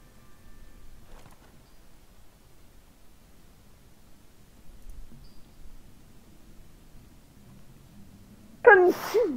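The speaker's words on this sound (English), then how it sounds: "Your sneeze has a lot of syllables to it." A single sneeze bursts out near the end of an otherwise quiet indoor stretch with faint background hiss, loud and close, with a short multi-part, drawn-out sound.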